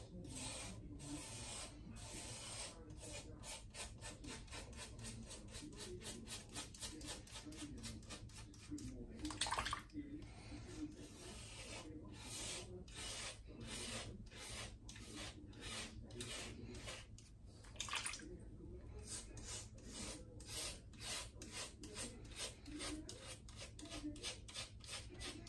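A Gillette Sensor Excel razor scrapes across a freshly shaved head in close, steady rasping strokes, repeated rhythmically with brief pauses and a faint water splash near the middle.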